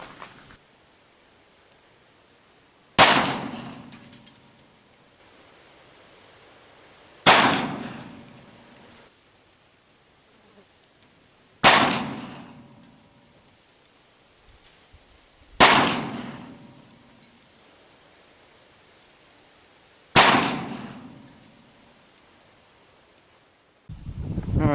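An Uberti 1860 revolver with a .45 Colt cylinder fires five shots outdoors, each a sharp loud crack with a ringing decay, spaced roughly four seconds apart.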